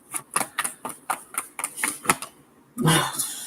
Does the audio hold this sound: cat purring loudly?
no